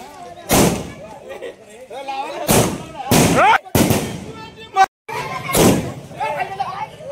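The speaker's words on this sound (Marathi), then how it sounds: "तालुक्यामध्ये विविध गावांमध्ये फटाक्यांची आतिषबाजी आपल्याला पाहायला मिळेल" Fireworks burst in a village celebration, four or five loud, sharp bangs spaced a second or so apart, nearby and echoing, with a crowd's voices and shouting between blasts.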